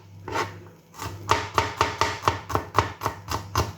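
Knife chopping onion finely on a board for Ethiopian shiro fitfit, about a dozen quick, evenly spaced close blows in a steady rhythm after a short pause, with no talking.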